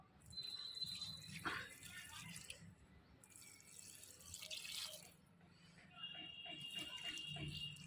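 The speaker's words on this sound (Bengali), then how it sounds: "এবার জল দিয়ে দিতে হবে" Water is poured onto a potted Nandini plant, with splashing and trickling in uneven bursts that pause briefly, then resume with a fuller flow.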